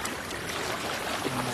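Broad river water flowing steadily, a continuous close rushing wash with a faint trickle in it and no voices.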